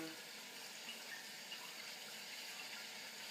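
Running water rinsing drained noodles in a kitchen sink, a steady faint hiss of flow lasting throughout without pause.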